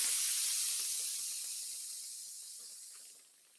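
Air hisses out of a deflating 1962 Schwinn Speedster bicycle tire, a steady close hiss that slowly weakens and then drops off sharply near the end.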